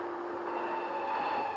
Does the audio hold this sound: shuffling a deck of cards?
no